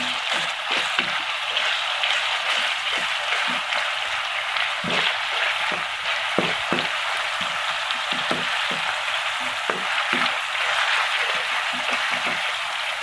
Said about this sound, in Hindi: माशाल्लाह बहुत अच्छे से ये फ्राई हो रहा है।